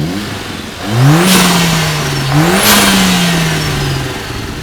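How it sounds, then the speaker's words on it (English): Two quick revs from a 2020 Mercedes CLA 45 AMG fitted with a cold air intake, each climbing sharply then easing back to a steady drone, loud and close with no voices. "going to do a quick rev of what it sounds like with the intake"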